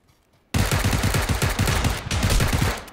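Rapid automatic gunfire in the video game PUBG bursts in after a brief quiet moment and then runs as a loud, close stream of shots with a few short gaps for about two and a half seconds.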